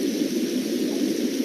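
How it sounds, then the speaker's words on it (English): Running water in an outdoor orchard setting, a steady broadband rushing hiss that holds even and fairly loud through the short stretch, with no voices. "what you heard is the sound of the running water"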